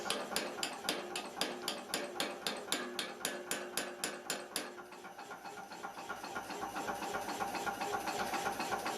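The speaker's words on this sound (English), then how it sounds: "It's not strictly necessary to use a power hammer to do this on little stock" A power hammer with a 40-kilogram ram forges small hairpin stock, pounding in fast, steady, evenly spaced blows that shift to a denser, rattling machine rhythm halfway through; no talk.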